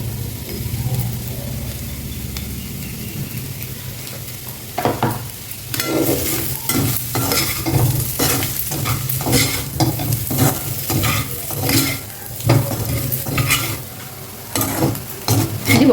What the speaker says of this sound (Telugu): ఇది ఒక 2 నిమిషాలు వేగనివ్వండి.